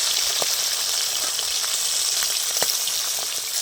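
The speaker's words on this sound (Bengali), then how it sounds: "আর এক পিঠ হালকা করে ভেজে নেব।" Pomfret fish fries in a pan of oil with a dense, bright, continuous sizzle, close and steady throughout, broken by a few faint pops and crackles and no talk.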